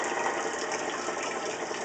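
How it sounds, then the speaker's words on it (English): Aquarium water spilling over the rim and running down into a bathtub, a continuous close splashing gush with a steady hiss, fairly loud and without talk. "Can you not see water dripping down? Oh, it is. Huh. This is going down into the tub."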